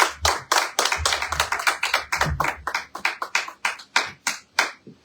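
Church congregation applauding: a brisk run of hand claps, loud and close, with a steady rhythm that thins out toward the end, no talking.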